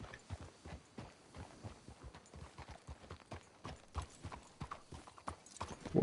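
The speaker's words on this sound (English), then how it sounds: "The horses up ahead." Horses' hooves clip-clop steadily in a walking rhythm in Red Dead Redemption 2, several animals close by with a brief whinny near the end and faint background voices.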